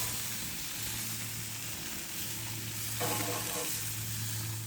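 Beef burger patties sizzling on a barbecue grill right after a flip, a strong continuous frying hiss with a brief burst of crackling partway through, close and steady with no talking.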